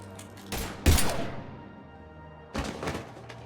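Gunfire in Mass Effect 3 arrives as a few sharp, loud bursts: a short volley, a heavier thumping blast, then another burst a moment later, with a low rumble lingering between them.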